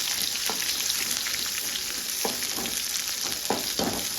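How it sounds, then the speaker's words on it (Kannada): Thickly cut onions frying in a pan: an even, bright sizzle runs throughout, broken by a handful of scraping stirs at irregular intervals, with no talking. "2 3 ಈರುಳ್ಳಿನ ದಪ್ಪವಾಗಿ ಕಟ್ ಮಾಡಿಬಿಟ್ಟು ಹಾಕ್ತಾ ಇದ್ದಾರೆ."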